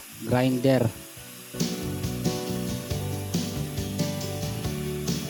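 An angle grinder cutting lengthwise through orange PVC pipe, a steady droning whine with rough grinding hiss, close and continuous after a brief spoken phrase at the start.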